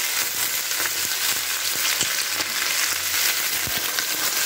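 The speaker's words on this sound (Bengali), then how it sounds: "খুব ভালো করে এটাকে ভেজে নেব, একদম লাল লাল করে ভেজে নিতে হবে এটাকে" Dried fish paste frying in a pan with onion, garlic, green chilli, coriander, salt and turmeric, a steady close sizzle with small clicks and stirring scrapes throughout, no talk.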